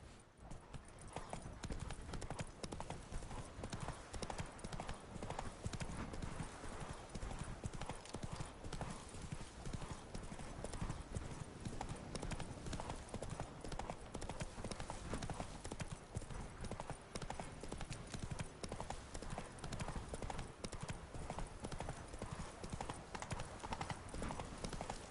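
Roach, a horse in The Witcher 3 video game, gallops in a steady, continuous run of hoofbeats that stay close and loud throughout, with no talking over them.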